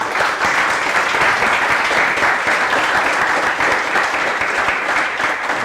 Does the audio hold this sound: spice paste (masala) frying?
no